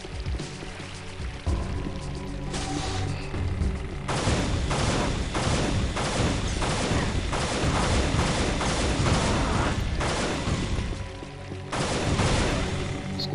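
Sustained bursts of gunfire in the shooter Unreal: Return to Na Pali, with rapid repeated shots and booming impacts going on for most of the stretch, loud and close, pausing briefly before resuming.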